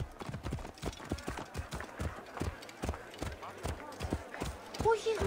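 Horse hooves clip-clop in a steady walking rhythm on a path in Assassin's Creed Origins, close and clear, with a brief whinny near the end and game voices talking over it.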